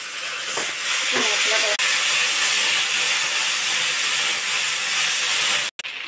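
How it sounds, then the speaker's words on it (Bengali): A spice paste with red chilli fries in a pan, giving a loud, continuous steamy hiss up close, with a brief voice and a few clinks near the start and a sharp break just before the end. "মশলাটাকে প্রথমে ভেজে নিচ্ছে"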